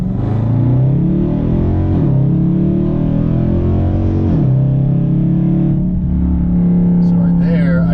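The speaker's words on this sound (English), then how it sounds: "So right there, I just got a 6-second 0 to 60 with the launch control." A Dodge Charger accelerates hard from a launch-control start, the engine note climbing steadily through gear shifts, loud and close as if heard from inside the cabin.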